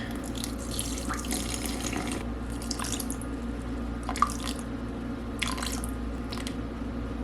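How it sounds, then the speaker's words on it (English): Warm tap water is poured for sourdough dough, trickling and dripping close by over a steady background hum in several short bursts with no voices. "And Maine has such clean water, so I've been actually using it from the tap"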